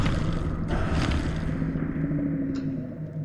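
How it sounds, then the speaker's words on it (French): A computer fan whirs steadily with a loud, continuous droning hum and broadband hiss that eases slightly toward the end, with no voices. "Pardon pour le bruit de ventilo."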